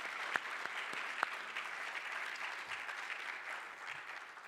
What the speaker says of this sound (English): Can I get one last round of applause for all of our award winners?